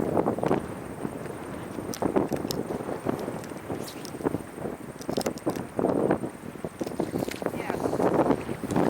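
Gusty wind buffeting a microphone beside a New Zealand river while out fishing, a rough continuous rumble rising and falling in surges, close and fairly loud, with faint splashes and scuffs beneath.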